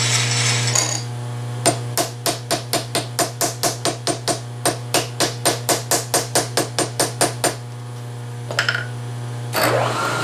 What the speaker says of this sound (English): Since we loosen the vise, we have to hammer them down again.